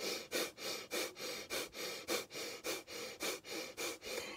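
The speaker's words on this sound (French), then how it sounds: "ce qu'on appelle la ventilation ou le souffler, eh bien, c'est cette même respiration qui va être rapide" Rapid abdominal breathing, a demonstration of fast breaths centred low in the body. Quick, regular puffs of air sound close up, about three per second, with no talk.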